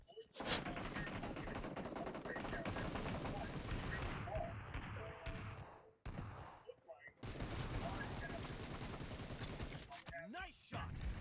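Dense, sustained gunfire from the PUBG Mobile game, a continuous rapid barrage running loud for most of the span with a brief gap near the middle before resuming.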